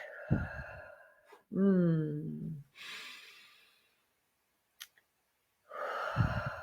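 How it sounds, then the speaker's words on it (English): Slow deep breaths during a live guided meditation and song session: audible breathy inhales and long exhales between pauses, near and clear, with a voice briefly sounding a tone in between. "Let's take a deep breath."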